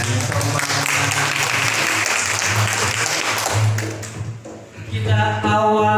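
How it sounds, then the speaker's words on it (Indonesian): A crowd at a birthday celebration claps hands together in a dense, continuous burst that dips briefly near the end, while a steady musical tone and some tapping sound underneath. "Mari semuanya tepuk tangan dengan semangat."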